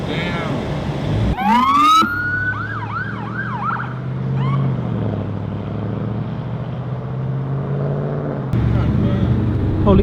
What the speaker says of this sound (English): Yo, police getting crazy out here.